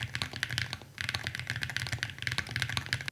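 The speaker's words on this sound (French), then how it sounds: "c'est aussi ce matériau qui permet de grandement améliorer le son du clavier" Rapid typing on an aluminium-cased Wooting mechanical keyboard, crisp clacky keystrokes close up, with a brief pause about a second in before the typing resumes.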